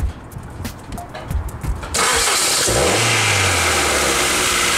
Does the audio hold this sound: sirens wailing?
no